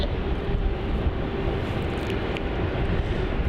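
Airliner vacating the runway at Melbourne Airport, a steady, broad jet roar heard from a distance, constant and unbroken throughout.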